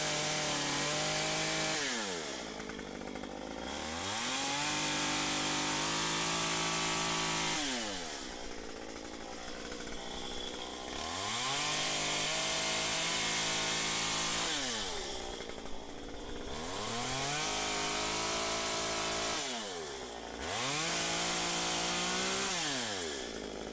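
A chainsaw carves a small wooden bear, the engine surging loud and close as the bar bites into the wood, then dropping back to idle between cuts, in four long cycles with no talk.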